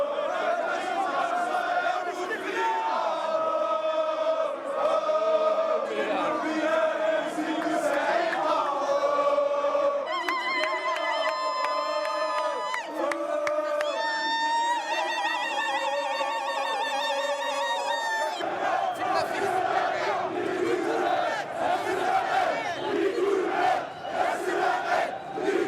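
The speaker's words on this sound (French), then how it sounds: "Tout au long de la manifestation, la foule entonnera en chœur des chants contestataires." A large demonstration crowd in Algeria sings protest songs in chorus, a massed, continuous chant of many voices with rhythmic shouted phrases and a sustained roar, steady and loud throughout.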